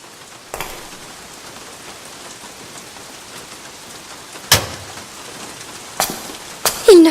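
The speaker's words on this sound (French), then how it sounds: "J'aime bien la pluie." Steady rain falls in a continuous soft hiss, with a few sharper knocks or taps standing out briefly above the downpour.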